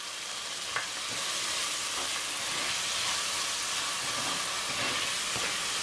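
Long beans frying with turmeric in a pan, a steady close sizzle with soft scraping stir strokes and a few light knocks of a spoon, no talking.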